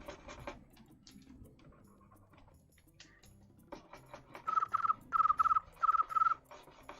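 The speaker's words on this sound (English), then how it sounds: "I feel like we have a lot of crickets in the audience." Rhythmic cricket chirps, five evenly spaced trills, ring out clearly after a stretch of faint clicking and rustling.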